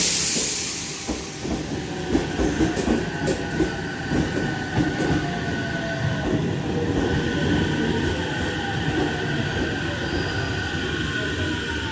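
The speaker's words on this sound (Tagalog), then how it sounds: "Paparating na yung train, guys. Ayan na yung local train." A local train pulls into a station in Japan near Shizuoka, a loud, close rumble of wheels and carriages with rhythmic clacks, hissing and faint squeals as it rolls past and slows.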